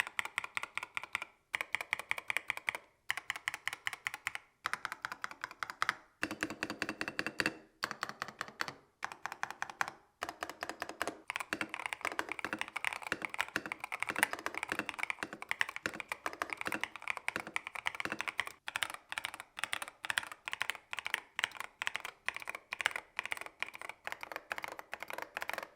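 Typing on an Epomaker Brick 87 mechanical keyboard: a steady run of close, crisp key clacks with brief pauses between bursts, continuing alone without talk.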